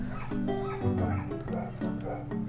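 Several dogs barking outside, yelps and short barks coming in quick overlapping bursts over steady background music, moderately loud.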